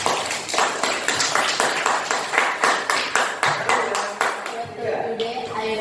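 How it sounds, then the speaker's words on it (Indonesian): An audience clapping hands together in a steady, rhythmic beat of many quick claps, fairly close, with a voice speaking over the final moments. "Ya, tepuk tangan."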